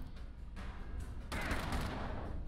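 Gunfire in the video game Fallout Shelter, with rough, noisy bursts of shots, one starting early and a louder, longer volley about halfway through that keeps rattling to the end.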